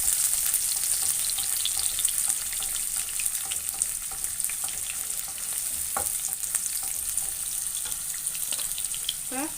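Small onions (shallots) sauté in a pan with a continuous hissing sizzle and occasional stirring clinks, close up and steady, with no talk.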